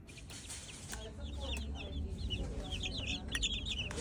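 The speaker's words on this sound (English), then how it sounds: "Chicken." Chickens cluck and chirp quietly with short, repeated calls scattered across a faint outdoor autumn background.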